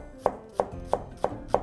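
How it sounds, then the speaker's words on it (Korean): A knife slices green onion on a cutting board in five even, crisp chops, close and clear with no talk over them. "파는 그냥 귀찮으면 송송."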